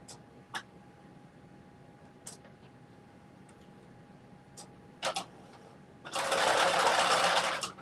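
A sewing machine stitches through thick layered fabric and seam allowance for a headband and mittens, a loud steady whirring burst of about two seconds after scattered clicks and handling noises.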